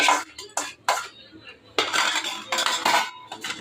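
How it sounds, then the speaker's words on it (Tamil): Hot tempering tipped from a metal pan into sambar, with sharp metallic clanks and scrapes of the pan and spoon in several bursts, close and fairly loud. "தாளிச்ச நல்லதாக சாம்பாரில் கொட்டிக்கிட்டு"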